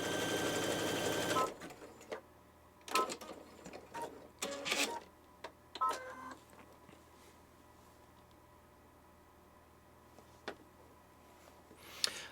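A BabyLock sewing machine with a freshly tightened bobbin runs in a few short stitching bursts near the start, then goes mostly quiet apart from faint clicks and handling noise.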